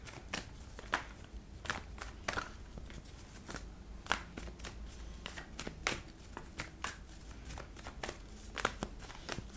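Tarot cards are shuffled by hand up close, with quiet irregular riffling snaps and soft slaps repeating throughout.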